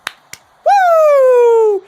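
Two sharp hand claps followed by a single long, loud falling 'Woooo' in the Ric Flair style, a voice imitating the wrestler's trademark chant, during a live WWE Raw watch-along.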